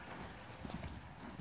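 A horse runs up, its hoofbeats clip-clopping faintly and quickly at a distance over a rough outdoor background.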